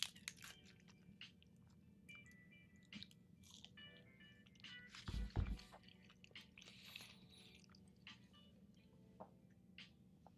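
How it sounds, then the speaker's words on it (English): Close, wet chewing and crunching of food in a quiet room, with one louder burst of bites in the middle and softer mouth sounds before and after, no talking. "Please let me know if you can hear me chew."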